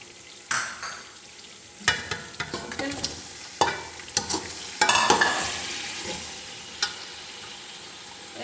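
Large potatoes and onions fry in a pan with salt and a green chilli while a spoon stirs them, sharp scraping knocks and clatter repeating irregularly over a steady hissing sizzle, close and fairly loud.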